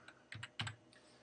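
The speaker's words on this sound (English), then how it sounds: "I simply click in here, and I can type" A few quiet keystrokes on a computer keyboard, a short run of two or three taps close by, faint and alone.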